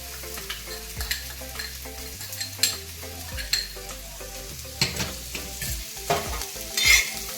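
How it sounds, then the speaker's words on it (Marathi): Chopped onion roasted and stirred on a hot iron tawa, with coconut to follow, gives a low steady sizzle broken by repeated scraping clinks of the spatula, close and fairly loud, with no talking. "हा कांदा छान हलवत याला लाल तांबूस रंग येईपर्यंत आपण छान भाजून घेणार आहोत"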